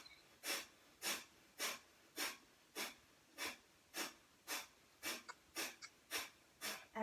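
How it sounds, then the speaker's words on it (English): Bellows breath in a yoga breathing exercise, a dozen sharp rhythmic nasal breaths repeated about every half second, close and clear with no talk. "Center, bellows breath."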